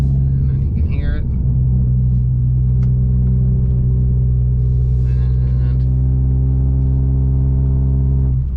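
A Dodge Dart GT fitted with an MPX exhaust cruises in fourth gear with a loud, steady, droning low rumble throughout, and a brief rise in engine note near the start.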